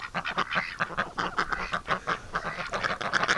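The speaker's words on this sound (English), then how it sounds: "Getting molested by ducks." Ducks in a snowy winter setting quack close by, a dense chorus of rapid, overlapping calls in an uneven rhythm, fairly loud throughout without talking.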